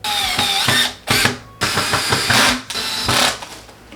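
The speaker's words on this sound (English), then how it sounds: "if you use a drill, turn it down and go slow" A power drill drives screws into a compressed-wood shelf panel during assembly of a Target bookshelf closet. It comes as four loud, whirring bursts separated by brief pauses.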